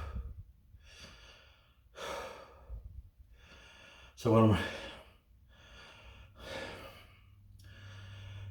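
Someone catches their breath after a set of side delt raises: a series of heavy, rhythmic breaths, close and fairly quiet, with one sharper gasp or snort partway through and a few brief spoken words.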